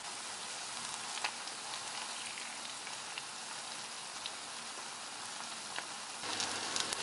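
Leftover idli pieces fry in hot oil in a pan, giving a steady, even sizzle with faint crackling pops throughout and a slightly louder burst near the end, with no voices.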